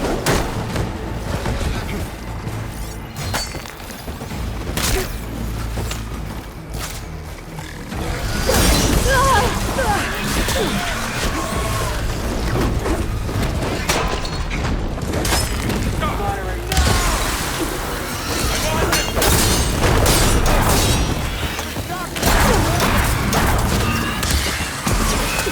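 Gunfire and explosions fill a battle in Horizon Forbidden West, with heavy booms and crashing impacts rolling continuously for the whole stretch. Voices shout through the din.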